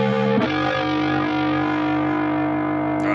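Electric guitar run through a BOSS GT-1000 with Juggernaut distortion, a loud sustained heavily driven chord ringing out after a sharp attack, with a brief second pick near the end.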